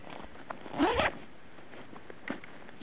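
The zipper on a MountainSmith Tour TLS lumbar pack is pulled once in a quick, close rasping stroke, and a second short zip follows a moment later against a quiet background.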